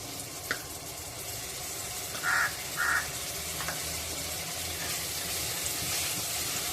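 Ginger garlic paste fries with golden brown onions in a pan for a spicy tawa egg dish. A steady, close hiss of sizzling runs throughout, with two crow caws in the background.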